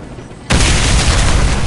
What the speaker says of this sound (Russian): Установи бомбу на указанной точке.